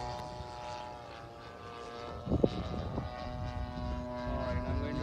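The engine of a Phoenix Spitfire model plane runs steadily with a droning, propeller-like buzz that rises in the middle and holds. A person speaks briefly under the engine noise.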